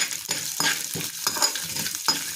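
Cumin seeds splutter in hot ghee for a tempering with a loud, close, continuous crackling sizzle and a few stronger pops in an irregular rhythm, with no talk.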